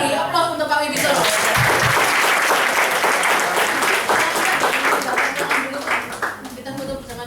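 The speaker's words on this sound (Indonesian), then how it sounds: "Oke, sekali lagi beri aplaus untuk Pak Wibi Solo." An audience applauds after a speaker's talk at a business seminar, loud dense clapping that swells quickly and holds before tapering off, with voices faintly underneath.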